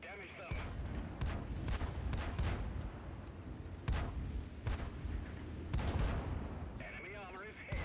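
Tank cannons firing in a video game: several heavy booming shots spaced a second or two apart, loud and close, with rumbling battle noise between them and a voice now and then.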